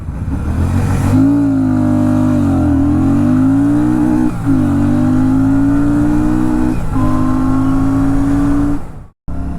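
A Royal Enfield Classic 650 motorcycle with a 650 engine launches from first gear, its loud, close engine note climbing in steady pulls, dipping briefly at each gear change, then cutting off abruptly at the end.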